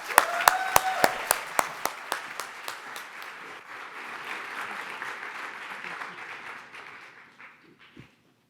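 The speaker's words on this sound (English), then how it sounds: "round of applause for Sherry to bring her out" An audience at a university business competition breaks into applause for a presenter coming out, opening with a few sharp, distinct claps that blend into a sustained round and then fade out near the end.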